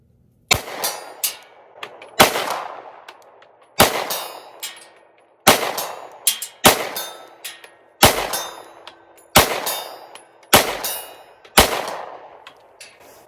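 Ruger RXM pistol shots fired outdoors at a 50-yard target, nine loud sharp reports spaced a second or two apart, each followed by a ringing echo and faint metallic clang.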